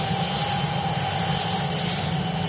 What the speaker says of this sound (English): IAE engines on this as well sound naughty.